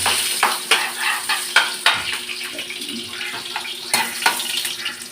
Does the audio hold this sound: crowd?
no